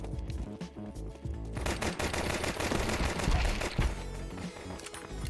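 Rapid automatic gunfire from Counter-Strike 2 matches, dense bursts and sustained sprays of shots at close range filling the whole stretch with little pause.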